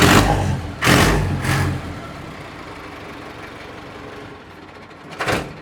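A tractor engine runs nearby with a low, steady idle rumble, broken by a few loud revving bursts at the start and another near the end, with no voices.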